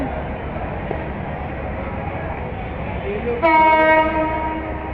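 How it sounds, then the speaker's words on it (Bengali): The Madhumati Express train, a passenger service from Dhaka to Rajshahi, rumbles steadily past the Jurain rail gate, then sounds a loud sustained horn that starts abruptly near the end and holds to the finish. "জুরাইন রেলগেট দিয়ে ঢুকতেছে নতুন ট্রেন মধুমতি এক্সপ্রেস"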